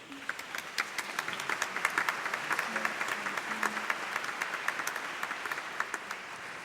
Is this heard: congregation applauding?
yes